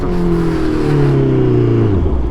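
A loud Honda CBR 650R motorcycle engine note rising and falling with harmonic pitch sweeps, continuous and close, as the exhaust is revved.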